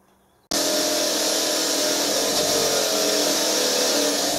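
A wire wheel spins up abruptly and runs continuously, grinding off surface rust and pitting from a metal part in a home workshop, a steady loud whirring hiss with no talk.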